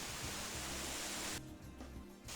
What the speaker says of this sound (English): It's like a waterfall cave.